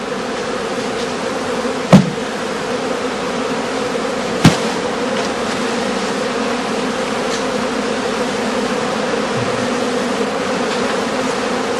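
Steady insect buzzing fills the air, a dense continuous drone of many honeybees at a straw skep hive, with two sharp knocks standing out briefly.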